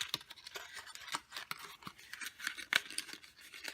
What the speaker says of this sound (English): You're going to fold your two sides in and your top.